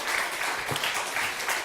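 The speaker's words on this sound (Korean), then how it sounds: "감사 박수 한번 치도록 하겠습니다." A church congregation applauds together as a gesture of thanks during a Thanksgiving service, a steady, diffuse wash of clapping heard from a distance in a reverberant hall.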